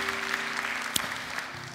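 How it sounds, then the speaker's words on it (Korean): A church congregation claps in blessing and encouragement for a returning member, a brief, fairly soft spell of scattered applause with one sharp louder clap standing out. "우리 다시 한번 우리 박수로 한번 축복하고 격려하겠습니다."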